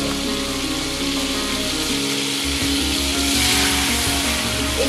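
Butter sizzles and crackles as it melts in a pan for dal makhani, a steady close frying hiss with low rhythmic bubbling throughout.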